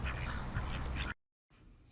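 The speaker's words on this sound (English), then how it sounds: "Duck." A duck quacks repeatedly and close by for about a second, then falls silent before faint background noise returns.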